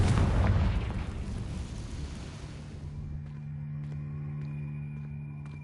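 A Confringo blasting curse explodes in Hogwarts, a loud close roaring blast that decays over a few seconds into a low lingering hum with faint ringing tones.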